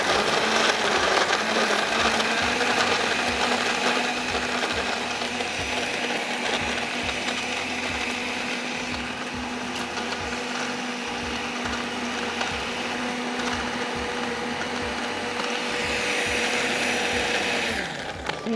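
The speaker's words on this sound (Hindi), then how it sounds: "जितनी इसकी अच्छी ब्लेंडिंग होगी उतना अच्छा ये ड्रिंक बनेगा" An electric blender whirs continuously, loud and close, as it purees a fresh mint drink, a steady motor drone with a slight rattle holding throughout before cutting off at the end, no voices.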